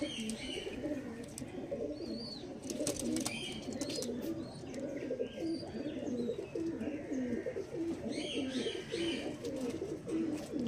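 Black Diamond pigeons cooing steadily in a loft, a continuous layered murmur of low coos from several birds close by, with faint chirps and clicks scattered above.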